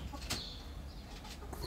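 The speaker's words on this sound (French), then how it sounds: "Les poules." Chickens cluck in a few short, sharp bursts over a low steady background hum, close and moderately loud, with no voices.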